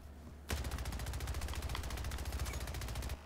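Sustained automatic gunfire in Splitgate, a fast even stream of shots starting abruptly and running for nearly three seconds before cutting off, loud and close with no talking.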